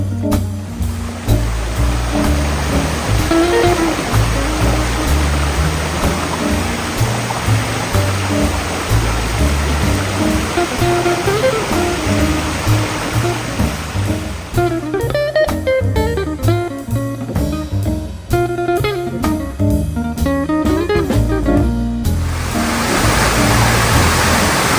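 Rio Maior waterfall in Urussanga, Santa Catarina, a loud, continuous roaring rush of falling water heard close up, its broad steady noise filling the whole stretch without voices.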